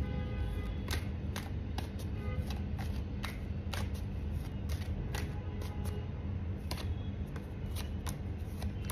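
Tarot cards are shuffled by hand for a pick-a-card reading, a run of crisp riffling snaps and flicks at an irregular pace over a steady low background hum, close up and without talk.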